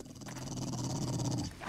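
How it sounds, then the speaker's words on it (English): Several dogs growling in the video game 7 Days to Die, a sustained, close, snarling rumble that holds steadily for over a second before cutting off. "Look at the amount of dogs"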